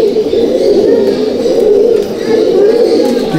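A flock of Malbai/Panjabi pigeons in a loft coos loudly and close by, a dense, continuous, overlapping murmur with no pauses.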